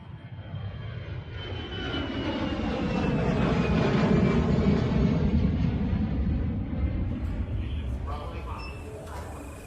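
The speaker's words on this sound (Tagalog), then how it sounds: "Ay, sa wakas, nakababa na din tayo ng eroplano." Airplane engine roars steadily in a long, loud passage that swells toward the middle and eases at the end, with passengers arriving by plane in the province of Capiz; a faint voice sits under the drone.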